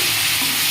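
Tomatoes with a little turmeric sizzle in a hot pan while they are stirred for tomato chutney. The frying is loud and steady and lasts a brief moment, with nothing else heard.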